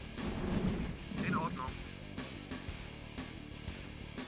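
Gunfire and artillery blasts from the Command & Conquer Red Alert video game, several muffled booms and pops at moderate distance, heard under a man's speech.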